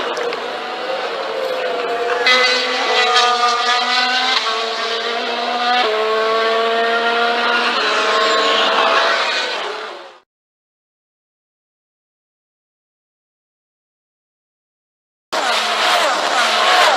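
Renault Formula 1 car of Kevin Magnussen at the exit of Raidillon crashing into the tyre barrier, heard as a loud, sustained engine roar with shifting harmonic tones for about ten seconds, then silence before the racing noise returns.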